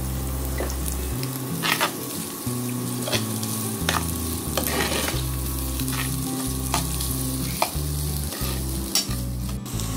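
Diced potatoes sautéing with a pinch of salt in a pan for sabudana khichdi, a steady sizzle broken by repeated scraping strokes of a spoon stirring, fairly loud and close, no talking.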